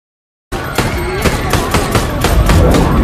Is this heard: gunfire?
yes